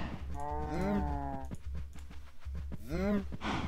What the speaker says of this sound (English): Are you guys creating cows or what?